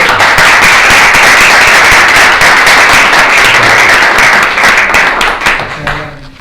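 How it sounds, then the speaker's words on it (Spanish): A seminar audience delivers loud, sustained applause for a professor, a thick wash of clapping that stays full for most of the stretch before tapering off near the end. "vamos a darle un aplauso al profesor Portero"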